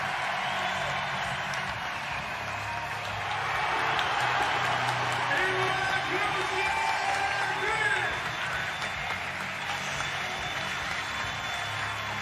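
A home crowd roars and applauds without pause at a CrossFit Games Europe semifinal women's event final heat. The cheering is dense and loud, with a commentator talking over it.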